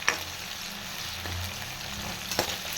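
Onions sizzle in hot oil in a pan for a spicy Tamil fish curry, a steady soft frying hiss with a couple of brief stirring clinks.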